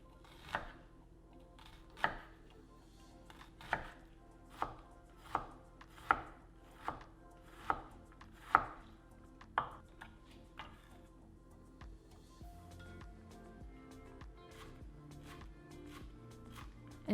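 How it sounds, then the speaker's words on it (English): A knife mincing red or yellow onion on a cutting board: sharp, evenly spaced chops for about ten seconds, then quieter, faster light tapping, all close and with no talk. "Then we're going to mince a 1/4 cup of red or yellow onion."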